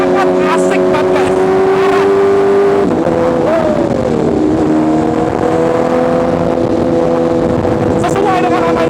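An MV Agusta Brutale 1000 motorcycle ridden at the Nürburgring: a loud, close engine tone that holds steady, dips and rises again as the revs change, continuous for several seconds.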